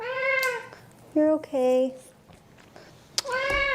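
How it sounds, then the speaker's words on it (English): A cat meows several times, loud and close, with clear drawn-out cries spaced across the moment, and a person speaks briefly between them. "He is in fact a cat."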